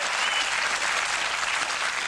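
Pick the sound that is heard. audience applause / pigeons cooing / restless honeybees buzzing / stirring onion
audience applause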